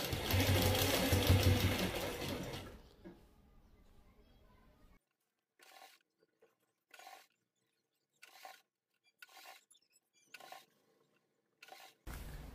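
Sewing machine stitching a folded fabric strip for piping, a loud continuous run at the start that fades, followed by short bursts of stitching separated by quiet pauses; a voice speaks briefly.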